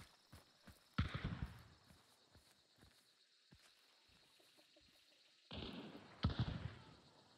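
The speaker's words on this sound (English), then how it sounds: "Who's shooting?" Distant gunshots ring out in Hunt Showdown, a scattered series of sharp cracks at irregular intervals, mostly faint and far off, with a few louder reports closer in, over quiet ambient background.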